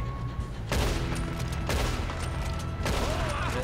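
Gunshots crack out in Red Dead Redemption 2, three loud separate blasts spaced about a second apart, each with a booming echoing tail over a low background rumble.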